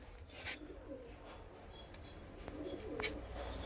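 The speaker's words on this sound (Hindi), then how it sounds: "पंजाब वाले बिल्कुल नस्ली कबूतर" Purebred Punjabi pigeons cooing softly at a distance over a steady background hum, with a few brief calls rising out of the ambience.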